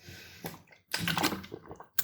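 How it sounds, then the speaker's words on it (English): Someone takes a few soft, close sips of water, brief wet slurping bursts separated by short quiet gaps. "Sipping some water, keep your brain hydrated."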